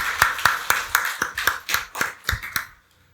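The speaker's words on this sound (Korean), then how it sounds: "박수로 하나님께 영광 돌리겠습니다" A church congregation at a Sunday worship service claps in a slow, even rhythm, about a dozen loud, crisp unison claps that stop abruptly, followed by near silence.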